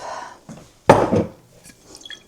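Diluted apple juice mixed with water is poured into a cup in a home kitchen, a short splashing gush in the middle with faint trickles before and after.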